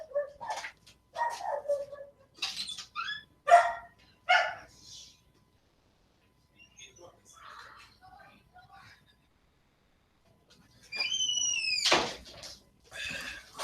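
A pet dog barks indoors in scattered short bursts, fairly close, interleaved with quiet talking and whispering, followed by a rising whimper or whine near the end.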